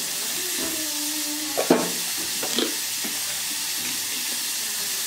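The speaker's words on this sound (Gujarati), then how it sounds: "1 મિનિટ સુધી આમ જ આપણે સાંતળવા દઈએ." Spinach sautéing in a pan over medium heat, a steady low sizzle with a couple of brief stirring clatters around the middle, no voices.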